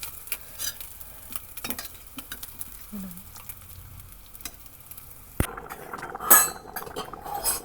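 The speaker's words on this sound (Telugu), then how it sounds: "కర్రీ అయితే బాగా ఉడుకుతుందండి" Potato and egg curry simmers and fries in a pan, with scattered clinks and scrapes of a spoon against metal over a low bubbling background, and a louder burst of sizzling stirring toward the end.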